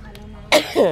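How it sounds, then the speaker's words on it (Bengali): A single sharp, close cough bursts out after a quiet moment, followed by a rougher throat-clearing rasp. "কাশি শুরু হয়ে গেল"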